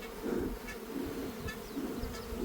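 Honey bees buzz around a hive topped with two honey supers, a steady close droning hum with individual bees passing near, continuous and without talk.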